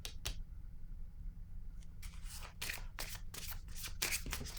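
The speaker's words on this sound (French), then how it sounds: "Je vais déposer une autre carte ici." Playing cards are handled and set down on a table during a tarot-style reading, with a couple of soft slaps followed by a run of quick papery riffles and taps, close and quiet.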